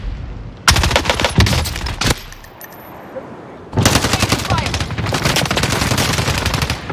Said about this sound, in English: Watch it! Receiving hostile fire!